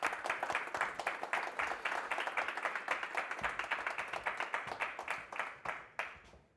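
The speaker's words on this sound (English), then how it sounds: "Also applause, please." An audience at a technology regulation talk claps to welcome a speaker on stage, quiet and fairly sparse, with individual claps standing out before the clapping thins and stops near the end.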